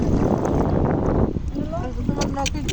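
A trawler boat cruising on a river in village Bangladesh, its steady engine rumble and water rush loud and continuous throughout, easing slightly partway through.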